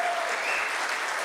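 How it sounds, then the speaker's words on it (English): A church congregation applauds its volunteers, a dense steady burst of clapping filling the room for a moment. "So let's give them a round of applause."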